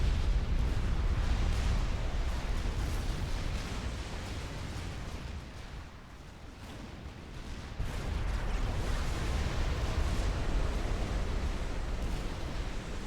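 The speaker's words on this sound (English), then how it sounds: "there's 3 NOAA unit cannons just shooting units across the map." Repeated cannon fire and explosions from NOAA unit cannons in the real-time strategy game Supreme Commander 2, a dense, steady rumble of booms and bursts with no pause across a large 4v4 battle.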